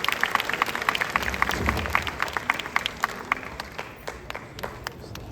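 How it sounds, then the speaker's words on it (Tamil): An audience at the FeTNA Tamil convention in America applauds the poets, steady dense clapping filling the hall and then thinning out and fading toward the end. "அனைத்து கவிஞர்களுக்கும் ஒரு கரகோஷம் கொடுத்து வாழ்த்து சொல்லியிருந்தாங்க"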